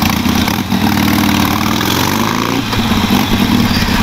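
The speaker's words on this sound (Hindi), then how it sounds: "वेंसन है इसका, एग्जॉस्ट नोट सुनो, मतलब एक नंबर साउंड आता है" A Harley-Davidson Iron 883 cruiser fitted with a Vance & Hines exhaust rumbles loudly and steadily at close range, a thick, unbroken engine roar with slight swells in throttle throughout.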